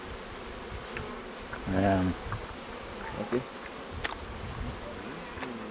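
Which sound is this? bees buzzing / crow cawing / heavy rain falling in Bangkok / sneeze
bees buzzing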